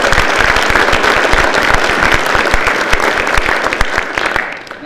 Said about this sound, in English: Please join me in a round of applause for the great students.